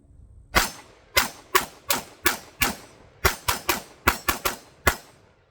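A Cosaint Arms COS21 double-stack 1911 pistol with a steel slide and steel frame, fired outdoors in a string of about fifteen sharp, loud, close reports, at first steady and then in quicker clusters, with no talking.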